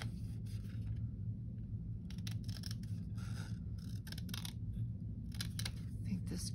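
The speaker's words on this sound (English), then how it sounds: "Let's cut this out and see if this will fit." Scissors snipping through paper while cutting out a piece for a craft journal: short, crisp bursts of cutting, some quick clusters, heard close and fairly quiet over a steady low hum.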